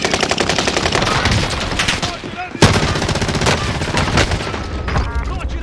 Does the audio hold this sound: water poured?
no